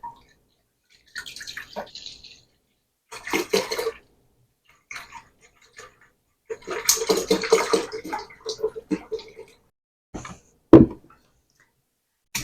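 Half a gallon of organic milk splashes and pours into a bowl for homemade yogurt in a kitchen, heard as intermittent liquid bursts and drips with brief pauses and a few knocks, close up.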